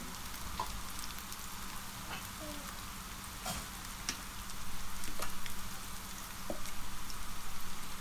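Chopped green chili, ginger and garlic fry in a pan with a steady dense sizzle, like rain hissing, swelling louder in two stretches near the end with a few faint clicks on top.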